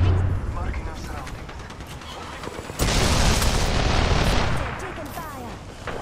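A grenade blows up in the video game Apex Legends as a sudden loud, near boom with a rumbling tail over distant gunfire, while players talk over it.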